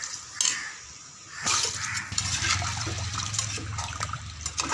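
Water splashes and pours into a metal pot of country chicken curry after a light clink, a sustained gushing sound that continues steadily to the end.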